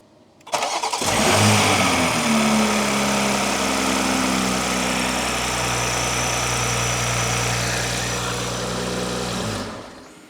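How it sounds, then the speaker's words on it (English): A BMW B58 Gen 2 inline-six, fresh from a flex fuel install, cranks and fires within half a second, then settles into a loud, steady idle with a deep hum. It runs nearby and alone for about nine seconds before cutting off. "then we get Paulie to come give us a hand and crank it"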